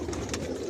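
Racing pigeons coo softly in a loft, a low murmuring burble running steadily through a brief moment with no talking.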